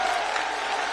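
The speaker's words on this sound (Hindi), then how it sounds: "जोरदार ताली बजा करके हम सब पूरा बागेश्वर परिवार स्वागत करें।" Large crowd at a religious gathering in Bageshwar applauding to welcome the Prime Minister, a loud, continuous roar of many hands clapping close by with no voices over it.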